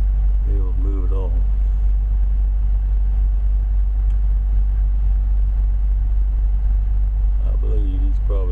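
A heavily loaded vehicle stuck in a snowstorm, its engine droning and revving steadily as the wheels spin, a continuous low rumble from a moderate distance with brief voices at the start and end.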